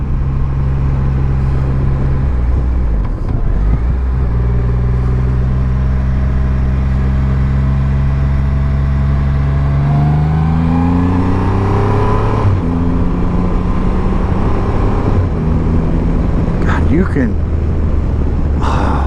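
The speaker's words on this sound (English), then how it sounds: "this bike likes to get into the higher RPM range" A 2020 Triumph Rocket 3 GT motorcycle engine pulls hard through the higher revs, its pitch climbing steadily, dropping at shifts and rising again, loud and close throughout under a rider's talk.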